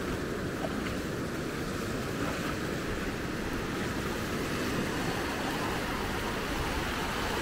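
Waves on the beach at Maspalomas, Gran Canaria wash in as a steady broadband roar, mixed with wind buffeting the microphone, constant and fairly loud without clear breaks.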